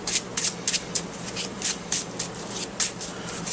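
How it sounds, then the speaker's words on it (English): A deck of cards is shuffled up close, with repeated crisp riffling bursts coming in quick, irregular pulses, alone without speech. "I get some shuffles in here."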